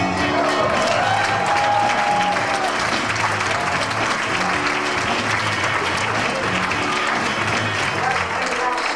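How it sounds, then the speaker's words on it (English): Sustained, dense applause from a large audience fills the whole stretch after a magic trick finale, with crowd voices and a brief cheer mixed into the continuous clapping. "fling open the fabric and receive your well-deserved applause"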